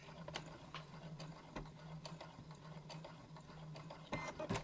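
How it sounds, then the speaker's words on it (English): A sewing machine lock stitches fabric for a festive drawstring bag, its quiet mechanical whir running steadily with light clicking ticks and a few louder knocks near the end, with no talking. "And then we can lock stitch there."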